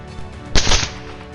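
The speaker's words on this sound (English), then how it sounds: "gunfire erupted, sweeping through the beasts in rapid bursts" A short, sharp burst of gunfire cracks out once amid a low background hum, brief and loud, with no voices, during a wild boar hunt in a field.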